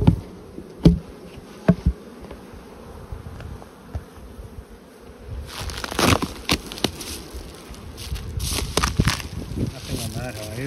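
Honeybees buzz around a hive in late summer as the canola flow ends, a soft constant hum near the frames with a few sharp knocks and a denser, busier swarm of buzzing in the second half.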